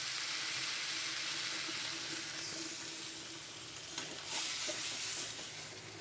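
Water poured into a hot pan of egg and eggplant curry sets off a soft, steady hiss and bubbling sizzle that swells briefly near the end, heard up close with no talking.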